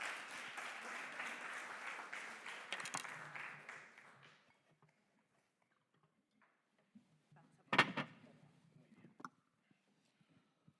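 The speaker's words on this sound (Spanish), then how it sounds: "un aplausito, aunque seamos pocos" A small audience claps for about four seconds, a light patter that fades to silence before a brief thump and a few faint rustles.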